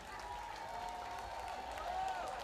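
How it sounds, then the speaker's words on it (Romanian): Festival crowd at a Costinești outdoor concert applauding, a steady, fairly faint wash of clapping and crowd noise that holds for the whole moment with a few brighter cheers poking through. "Aplauze pentru organizatorii acestui super, super festival."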